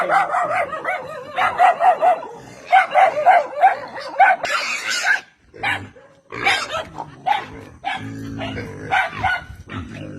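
A household dog barks and yips repeatedly at close range, loud bursts in uneven runs with brief whimpers between, heard outdoors at a home with no talking.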